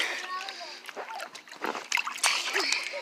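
A phone splashes into water, sending up a few choppy bursts of spray and sloshing, with people talking over it.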